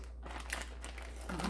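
Baking paper crinkles and rustles close by as it is wrapped back around a chocolate Yule log filled with ganache, in short soft bursts.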